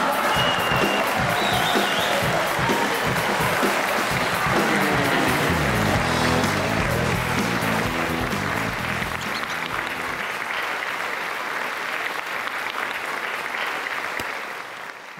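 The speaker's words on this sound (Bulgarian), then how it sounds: "Моля вашите още по-силни аплодисменти" A large audience at a live comedy stage show applauds loudly and continuously amid crowd noise and a few voices, and the clapping fades toward the end.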